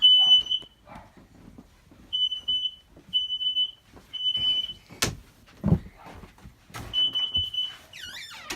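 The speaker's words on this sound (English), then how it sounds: "And the smoke detector goes off." A home smoke detector sounds repeated shrill beeps in short bursts at night, with clunks and knocks between the beeps and a sharp bang partway through.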